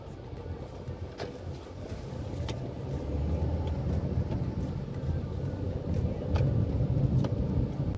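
A car drives along a road in Sargodha with a steady low engine and road rumble, faint occasional clicks and some wind buffeting, and no one speaks.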